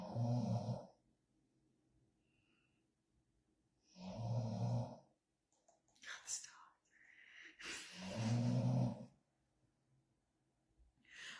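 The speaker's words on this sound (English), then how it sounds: "but Helios is snoring in the background." A dog gives deep, slow snores in a steady rhythm, a few seconds apart, with soft whispering between them.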